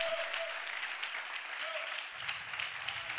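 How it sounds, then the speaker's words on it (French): A church congregation claps together to acclaim the Lord, a steady, somewhat distant wash of applause at modest volume with no voices on top. "On peut acclamer très fort le Seigneur."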